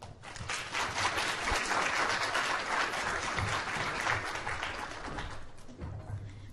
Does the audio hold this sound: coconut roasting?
no